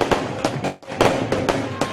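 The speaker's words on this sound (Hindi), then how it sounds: "फैसलाबाद में लीगी कारकुनान ने आतिशबाजी करके जश्न मनाया" Fireworks crackle and bang in a rapid, irregular series of sharp bursts during a street celebration by political party workers in Faisalabad.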